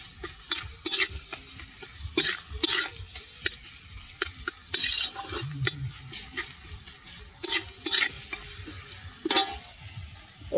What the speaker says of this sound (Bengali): আদা রসুন আমি বাইরে থেকে পেস্ট করে নিয়ে এসেছি মিক্সিতে, আমি অল্প দিয়ে দিলাম। আমি ফের নেড়ে চেড়ে নেব।